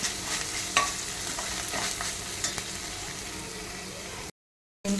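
Mint and fenugreek leaves sizzling and being stirred in a hot pan, a steady close frying hiss with scraping stir strokes, briefly cut to silence near the end.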